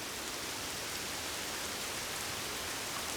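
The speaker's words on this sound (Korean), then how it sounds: "툇마루에 앉아 처마 끝에서 떨어지는 빗소리를 들으면 꽤나 운치가 있죠" Rain falls from the eaves of a traditional Korean hanok, a dense, even hiss of steady downpour without distinct drips, moderately loud and unbroken.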